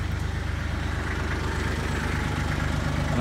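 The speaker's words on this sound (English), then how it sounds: "I've got to bring the tractor up to full RPMs that will get me 540 RPMs at my power takeoff." Kubota tractor engine running steadily near full RPM to drive a PTO-powered generator, a close, continuous low mechanical drone with no speech.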